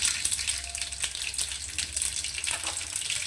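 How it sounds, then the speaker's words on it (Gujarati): Mustard seeds dropped into hot oil for a tempering, giving a close, continuous frying hiss dotted with quick crackling pops throughout. "આ આપણે તેલ મૂકી દીધું છે। હવે આપણે એમાં રાઈ નાખી"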